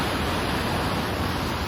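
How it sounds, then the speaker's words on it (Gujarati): Floodwater of the swollen Tapi river at Surat during heavy rain makes a loud, unbroken broadband rush, close and continuous, with no voices. "પાણી અત્યારે બે કાંઠે જોરદાર હાલ્યું જાય છે."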